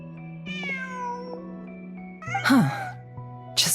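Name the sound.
cat meowing in a video game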